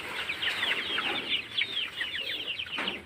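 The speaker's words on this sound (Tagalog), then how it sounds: "Pakaon na lang ni nato sa manok guys." Chickens cluck and squawk in a dense, continuous chorus, fairly close and steady throughout, with a few sharper calls rising above the flock.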